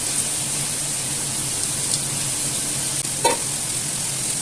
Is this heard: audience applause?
no